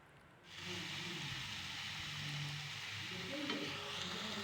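Whole spices sizzling in hot oil in a pan: bay leaves, dried chilies, cumin seeds, cloves, cardamom, cinnamon and Sichuan pepper. A steady, close crackling hiss starts abruptly and holds without pause, with no talk over it.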